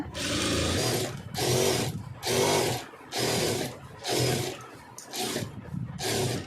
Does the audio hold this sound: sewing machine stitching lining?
yes